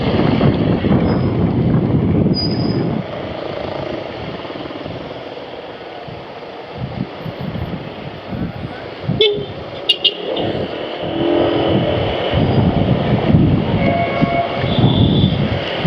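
Broadband road traffic rumble from a motorcycle ride on a congested road at dusk in rainy weather, with a steady engine and wind roar throughout and a few brief sharp higher sounds midway.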